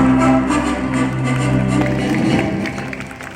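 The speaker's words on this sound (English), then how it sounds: "Let's give a huge round of applause for them." An audience at a school honor ceremony applauds as award winners come onto the stage, a loud, sustained wash of many hands clapping that fades slightly toward the end, with a tonal background sound running underneath.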